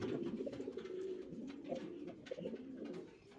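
A male fancy pigeon coos steadily up close, its low, throaty, rolling calls repeating throughout with no voices present.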